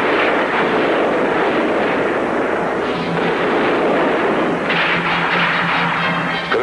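Gunfire and shooting in a Macedonian revolution film, a dense, loud, continuous roar of blasts and rumbling reports that stays heavy throughout, with no speech.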